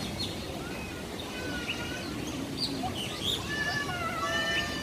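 Birds chirp and call in a large walk-in aviary at Hong Kong Park, scattered high tweets over a steady murmur of crowd and ambient noise.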